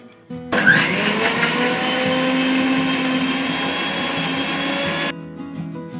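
A kitchen mixer grinder blending mustard seeds with water into a fine paste, a loud steady whirring roar that starts abruptly, runs for several seconds, then cuts off, with no one speaking.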